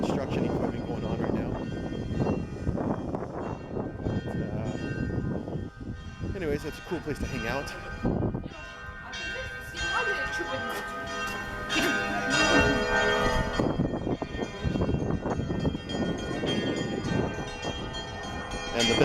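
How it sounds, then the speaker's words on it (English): Church bells ringing near the Kremlin, clanging tones mixed with construction equipment noise and someone talking over them, fairly loud and continuous with a brief lull midway. "And the bells are ringing."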